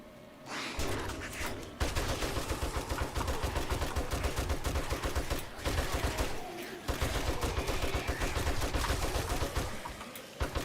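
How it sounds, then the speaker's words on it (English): Rapid, dense gunfire in the video game 7 Days to Die as zombies are shot down: sustained loud bursts fire almost continuously, with brief pauses near two and seven seconds, and no talking over it. "Shoot him till he doesn't get up"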